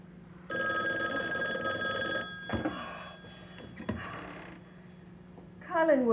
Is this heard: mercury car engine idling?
no